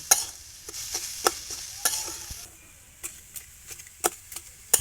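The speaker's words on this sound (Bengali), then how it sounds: "নারকেল আর গুড়টা নেড়ে ছেড়ে ছেঁচে মেরে নিতে হবে" Grated coconut and jaggery are stirred and mashed for a Bangladeshi pumpkin pitha, giving scattered sharp scrapes and taps of a utensil against a pan over a faint background, with no talking.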